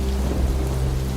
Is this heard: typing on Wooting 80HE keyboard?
no